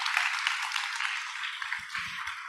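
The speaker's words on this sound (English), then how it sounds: "can we just give one more big round of applause to our participants?" An audience at a debate event gives a round of applause for the participants, a soft, continuous patter of many hands heard from some distance, with a few low thumps near the end.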